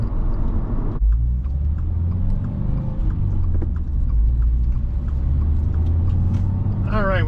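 A 2024 Subaru WRX Limited with a six-speed manual gearbox drives on, its engine a steady low rumble under cabin noise, with speech heard at moments over it.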